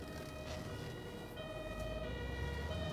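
An ambulance siren wails steadily in the distance over low road rumble from inside a 2016 Mitsubishi Outlander PHEV, its tone holding faint and even.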